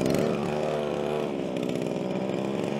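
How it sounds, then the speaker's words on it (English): Petrol strimmer engine running on choke with no throttle, a steady buzzing two-stroke drone held at one level throughout, close and loud with no talk over it. "I'm going strimming with my choke though"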